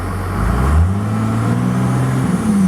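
A 12-valve Dodge Ram diesel truck engine idles steadily and loud at about 900 to 1,000 rpm, with a low droning hum and a slight shift in pitch partway through, no voices.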